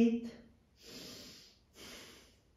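Slow, audible breaths during a yoga stretch, two long airy exhalations close to the microphone after a brief voice at the start.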